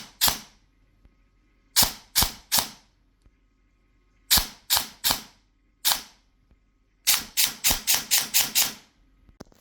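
Airsoft AK from E&L fitted with a Retro Arms V3 gearbox, firing in short bursts: two shots, then three, then a rapid string of about seven, each a sharp close crack with quiet gaps between.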